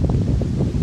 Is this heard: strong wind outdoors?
yes